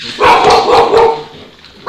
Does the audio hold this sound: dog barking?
yes